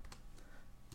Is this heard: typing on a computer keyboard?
yes